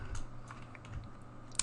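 Rapid typing on a computer keyboard during 3D rigging work, a quick run of light, close key clicks ending in one sharper tap, with no talk.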